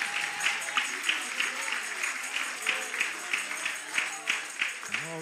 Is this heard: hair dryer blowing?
no